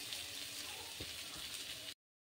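Potatoes fry in spice paste with a soft, steady sizzle and faint crackle, low in level, before cutting off abruptly after about two seconds.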